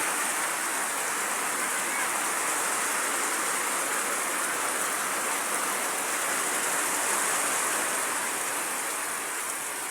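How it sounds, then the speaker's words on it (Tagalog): Heavy rain pours steadily and loudly for the whole stretch, a dense, unbroken hiss of water with no clear voices above it. "Kusog kayong ulan."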